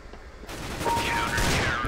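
Gunfire in the video game Counter-Strike, a dense burst of rapid shots that starts abruptly and keeps up steadily, loud and close, with no talk over it.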